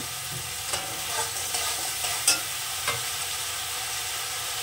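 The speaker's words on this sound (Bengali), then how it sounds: "ততক্ষণ আমি টমেটোটা কষে নেব।" Tomatoes with salt are sautéed and stirred in a pan, a constant frying sizzle broken by several light scraping strokes of the spoon.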